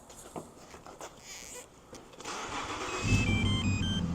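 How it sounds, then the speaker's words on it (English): A 2007 Lincoln MKZ with a repeatedly blowing fuse 49 cranks briefly and then fires into a steady idle, close by, with a faint electronic chime at the end. "let's start the car and see what happens"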